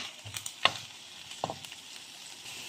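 Finely sliced ginger frying in oil, a faint steady sizzle with a few sharp spatters and stirring clinks near the start and middle, no talk.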